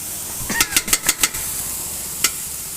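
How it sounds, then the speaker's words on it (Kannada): Vegetables with chili paste deep frying for veg fried rice, a run of about six quick scraping stirs in hot oil over a steady hiss, then one more scrape after a pause. "ಡೀಪ್ ಫ್ರೈ ಮಾಡ್ಕೊಳ್ಳೋಣ."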